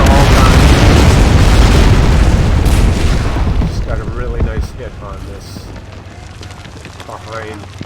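Heavy booms from a mortar hit and direct fire in a World War II Market Garden battle game roar loudly at the start, then fade into rumbling debris and distant battle noise.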